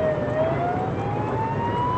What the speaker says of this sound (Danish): Med 160 km i timen sætter Jan Sabro efter dem med fuld udrykning